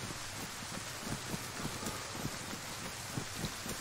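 Steady in-game rain from DayZ hisses evenly throughout, a dense, constant wash with faint gusty texture and no talking.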